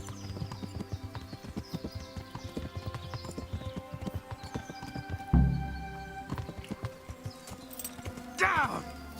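Horse hooves clip-clop steadily in Kingdom Come: Deliverance, close and rhythmic, with a brief whinny and a sharp thud partway through and a rising tonal sweep near the end.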